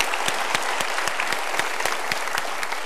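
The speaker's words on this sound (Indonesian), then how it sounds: "Tepuk tangan." Audience applause at a motivational talk show, dense steady clapping with sharp individual claps standing out at a regular pace, loud and close, no voices.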